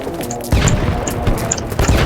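Sharp, crackling grenade blasts go off one after another in quick succession in BattleBit Remastered, game-style explosions with bursts of debris noise, loud and close.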